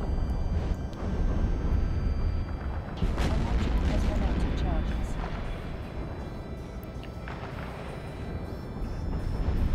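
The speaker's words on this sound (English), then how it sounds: "And they do blow up in a pretty cool way." Missile impacts and exploding cruisers in EVE Online, a dense rumble of booms and blasts with sharp bursts near 3 and 7 seconds, steady and loud throughout the space battle.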